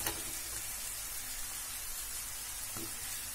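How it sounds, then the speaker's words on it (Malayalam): Okra sizzles steadily in a hot pan as it is sautéed, a continuous close frying hiss with a couple of soft stirring knocks and no talking. "വെണ്ടയ്ക്കും ചേർത്ത് വഴറ്റാം."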